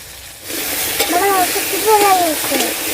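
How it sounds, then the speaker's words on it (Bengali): Vegetables for a suran (yam) and katla fish curry sauté in a hot pan with salt, a steady close sizzle and hiss running throughout while someone talks over the cooking. "এই তো সবজিগুলো কষাচ্ছি, লবণ দিয়ে দিচ্ছি পরিমাণ মতো"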